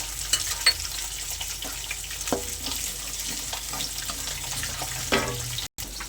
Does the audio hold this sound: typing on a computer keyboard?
no